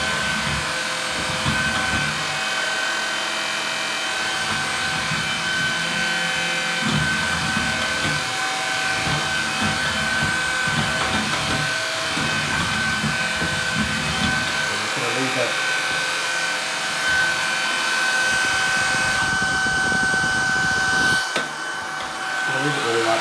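A Shark vacuum runs in carpet mode on a tiled bathroom floor, giving a steady motor whine with a constant tone throughout while people talk over it.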